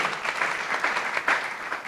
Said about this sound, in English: Can you give a round of applause to Ms. Meyer who put the thing together?